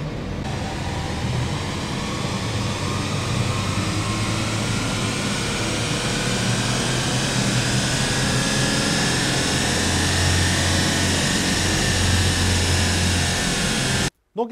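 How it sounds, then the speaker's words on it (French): Engine of a new Alpine A110 running steadily on a dyno, a loud, sustained roar with a broad rushing hiss and low drone that cuts off abruptly at the end. "Le moteur claque beaucoup moins."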